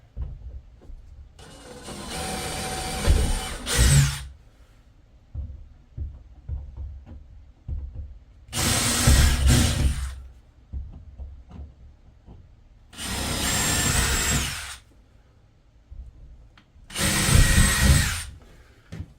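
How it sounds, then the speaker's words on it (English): A power drill bores through the corners of a wall opening in a wooden shed, with four separate loud bursts of drilling, each a few seconds long, separated by quieter handling and knocking. "All right, so we're going to drill in each corner."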